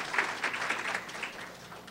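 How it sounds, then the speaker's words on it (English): Audience clapping at a nursing graduation ceremony, a moderate round of applause from a room of people, steady for a couple of seconds before easing off. "we can clap for him"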